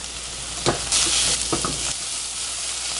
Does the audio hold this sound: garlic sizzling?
yes